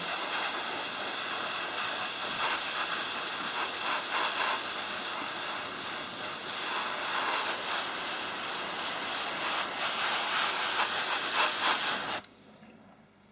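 An airbrush sprays acrylic paint with a steady, close, continuous hiss that holds for about twelve seconds before cutting off abruptly, with no talking.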